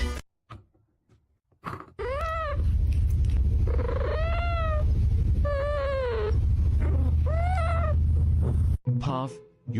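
A cat meows repeatedly, four or five loud, drawn-out calls in close succession, over a low rumbling background, with brief clicks and quieter moments before and after.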